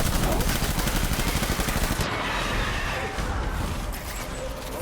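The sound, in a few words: gunfire in the video game Death Stranding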